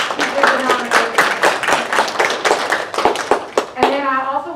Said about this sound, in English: let's give a round of applause to our teachers who did the nomination